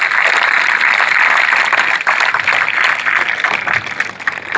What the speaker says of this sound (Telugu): నిజంగా వాళ్ళకి ఒకసారి క్లాప్స్ కొట్టొచ్చాను